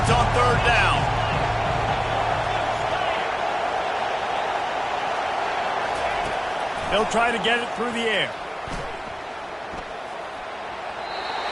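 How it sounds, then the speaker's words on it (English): A loud stadium crowd roars at a college football game on third down, a dense continuous wall of noise, strongest early, under a commentator's voice. "These fans are going absolutely nuts."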